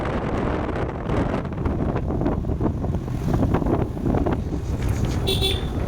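Loud, constant wind buffets the microphone on a moving motorbike carrying a family toward Dakshineswar, a roaring rumble throughout with a short horn toot near the end.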